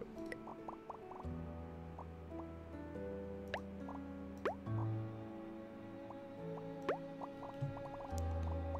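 Water drips and plops from the video game Mini Settlers, a steady scatter of small droplet sounds falling over a low humming game backdrop, moderately quiet with no voices.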